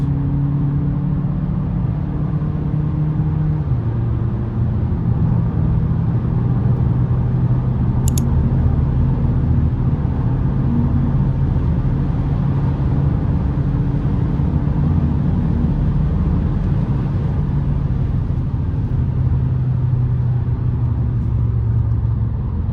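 A Volkswagen Passat Impression pulls through an in-gear acceleration, its engine a steady, loud rumble and whir heard from inside the car, holding a fairly even drone throughout with no talking.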